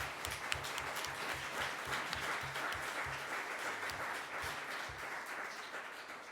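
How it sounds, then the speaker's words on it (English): An audience gives a round of applause at the close of a panel discussion on transit networks, with steady, moderately distant clapping running throughout. "A big round of applause"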